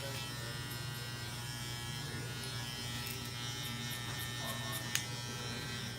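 A Saber hair clipper runs with a steady, even electric buzz at low level throughout, with a faint brief click near the end.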